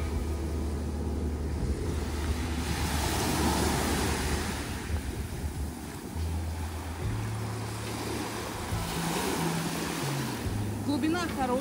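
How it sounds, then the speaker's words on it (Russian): Surf on a Maldives beach rolls and washes in a continuous roar, with a low engine-like hum underneath and a faint voice near the end. "Пойдемте посмотрим море."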